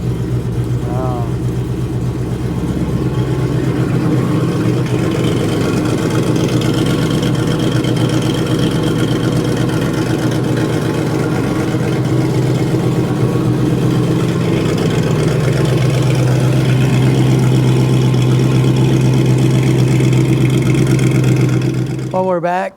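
A 1969 Chevy C10 truck with a fuel-injected 5.3 engine idles in a loud, steady rumble for the whole stretch, close up, and a voice speaks briefly over it.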